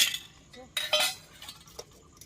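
Dishes and cutlery are handled up close, with quick bursts of clattering and metallic clinks in a short, uneven sequence.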